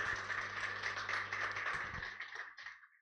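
A church congregation claps for God during a Sunday service, a dense wash of many hands heard close and steady, with a low hum beneath, thinning out and fading over the last half second.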